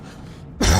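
A single short, heavy throat-clearing cough bursts out abruptly and loud, close to the mic, after a moment of quiet game sound.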